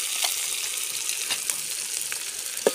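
Chicken coated in homemade ground black masala is frying in a pan. A steady, moderate sizzle runs throughout, broken by scattered small crackles and stirring scrapes, with one sharper tap near the end.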